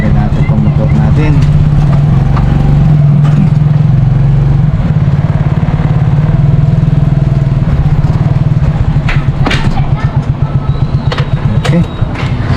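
A motorcycle engine runs steadily at idle, loud and close with a throbbing rumble, at a small roadside market stall, while people talk over it and a few clatters ring out.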